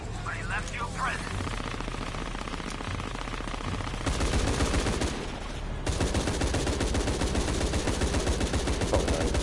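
Sustained automatic weapon fire in the video game Shadow of the Tomb Raider, dense rapid bursts that grow louder and heavier after a brief lull, with a voice speaking briefly near the start.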